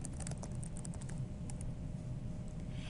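Rapid, uneven keystrokes on a computer keyboard type out a class name, a close, quiet clatter of light clicks over a low background hum, with no voices.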